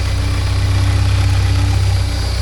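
A 1979 Porsche 924 engine idles steadily while warming up, close, with a low, even rumble and faint whine, running alone without any revving.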